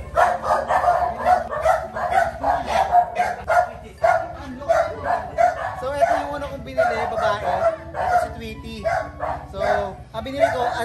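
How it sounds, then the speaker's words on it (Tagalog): A German Shepherd puppy of working line barks and yips in a rapid string of short, high barks, close and loud, while people talk over it. "So bumili ako ng aso."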